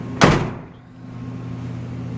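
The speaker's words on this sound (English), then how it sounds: "But door close is perfect" A 1970s Ford car door fitted with a new weatherstrip swings shut with one solid, close thud, followed by a quiet hum of the surroundings.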